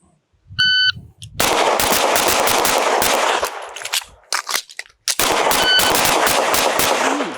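Pistol shots fired during an FBI pistol qualification stage, a quick string of loud close gunshots in two bursts broken by a short pause, with a timer beep near the start.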